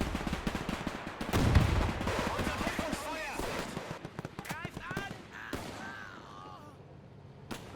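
A short howitzer fires in a World War II game amid a busy battle of gunfire cracks and rattling bursts, with a heavy boom near the start, while voices talk over the fighting.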